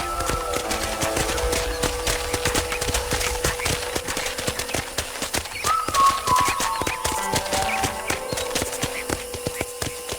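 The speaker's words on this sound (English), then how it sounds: "let's see if you can still ride a horse" Steady rhythmic clip-clop of horse hooves at a trot in the video game Red Dead Redemption Remastered, continuous and fairly close, with faint background tones and no talking.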